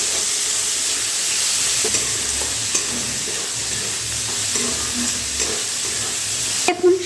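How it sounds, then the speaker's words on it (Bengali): Chopped onion, garlic, green chilli and tomato fry and are stirred in a pan, a continuous close sizzle and hiss broken by occasional scrapes of a spatula, with a clatter at the end. "এবারে সব কিছু মিশিয়ে আবারও একটু ভালো করে কষিয়ে নিতে হবে।"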